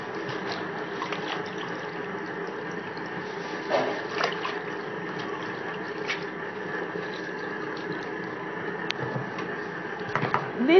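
Ingredients for banga stew are washed by hand in a bowl of water, a continuous close sloshing and trickling with a few louder splashes near the end, no talking.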